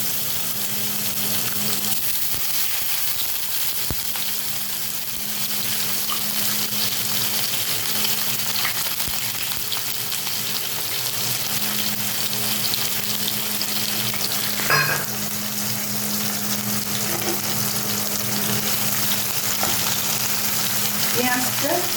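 Chopped onion with fennel seeds sizzles steadily in a hot pan for Bengali-style bhindi bharta, a continuous close frying hiss with occasional stirring scrapes and no talk.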